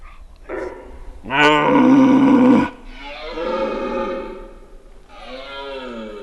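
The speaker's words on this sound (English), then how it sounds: "keep roaring at him and try and confuse the stag" A red deer stag gives a deep, drawn-out bellowing roar close by, followed by two more rough, moaning roars with brief pauses between them.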